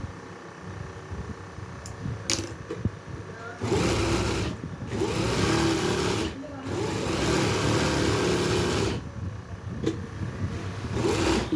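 A sewing machine stitches a front placket with a button tape, running in two long bursts of fast, even whirring chatter, close and loud, separated by short pauses and a few light clicks.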